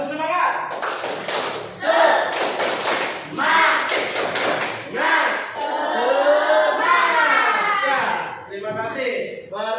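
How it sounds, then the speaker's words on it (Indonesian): Students in an Islamic religious education class clap hands together in a rhythmic ice-breaker pattern, loud and close, with bursts of clapping broken by short pauses and chanted voices over the top. "Bertepuk tangan saja ice breakingnya"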